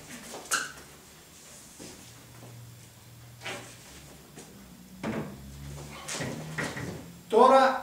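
A second modern sliding wardrobe door with vinyl cladding is lifted and fitted into place, giving several close wooden knocks and clacks spread over the stretch, with a sharper rattling burst at the end and low background hum between.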